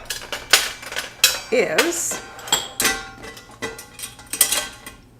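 Stackable metal pot-in-pot pans and a trivet for an Instant Pot clank and rattle close up, a rapid run of sharp metallic knocks and scrapes as the pans are handled and set down.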